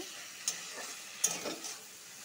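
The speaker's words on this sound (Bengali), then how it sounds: "ভালো করে ভেজে নিব।" Oil frying for a thin bata fish curry, a faint sizzle with a couple of sharp spits and stirring clinks against the pan, quiet and near, no talking.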